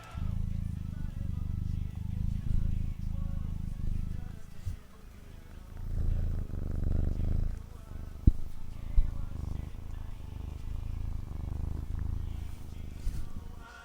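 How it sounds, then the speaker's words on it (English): A two-month-old kitten purrs close up in a soft, steady low rumble with rhythmic breathing pulses, continuous for about fourteen seconds with a few brief bumps. "this guy's always purring"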